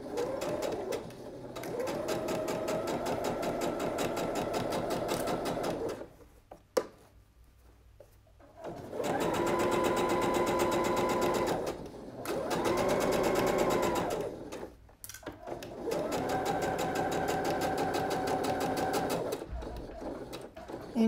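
A sewing machine stitches fabric for a blouse in steady whirring runs of several seconds, separated by short pauses, close and clear with no talk.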